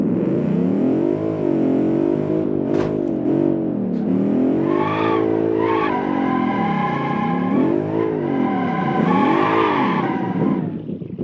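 An all-wheel-drive Bentley competitor car in BeamNG drifts under loud, continuous engine revving that rises and falls repeatedly in sweeping pitch, with a brief sharp transient partway through and no talking.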